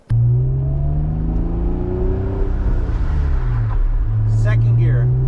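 A left-hand-drive Acura NSX engine holds a loud, steady drone that rises as the car accelerates, dips briefly around a gear change into second, then climbs again, close and continuous.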